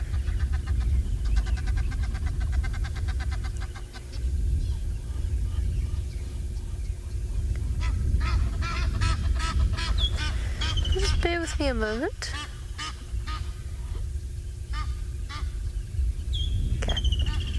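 Egyptian geese on a safari game drive give a few honks, including a rising call midway, over a steady low engine or wind rumble while someone talks nearby.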